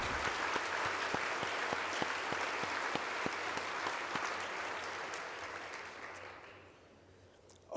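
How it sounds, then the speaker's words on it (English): Luncheon audience breaking into sustained applause, a dense wash of clapping that holds steady for several seconds before tapering off toward the end. "Please stand and accept our applause for this shared honor."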